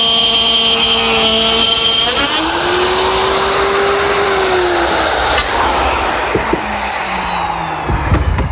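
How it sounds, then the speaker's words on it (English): A router fitted with a collar and a 1/2-inch bit cuts plywood, a loud high motor whine that shifts pitch as the bit bites into the wood, then winds down near the end. "I'm going to use my router, which has a collar and a 1/2-inch bit"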